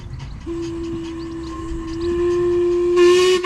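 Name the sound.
miniature steam railway train arriving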